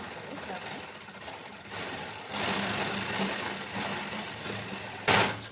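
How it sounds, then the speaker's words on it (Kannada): A sewing machine stitching a lined blouse runs with a steady mechanical whir, growing louder and faster partway through, then ends with a short sharp burst up close. "ಈಗ ಇದಕ್ಕೆ ಮತ್ತೆ ಇನ್ನೊಂದು ಹೊಲಿಗೆ ಬಿಟ್ಕೋಬೇಕು ಕ್ರಾಸ್ ಬೆಲ್ಟ್ ಹತ್ರ"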